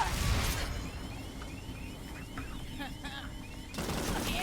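Rapid gunfire from a video game match, dense bursts and volleys filling the clip continuously, loud and close, with a brief swell at the start and end.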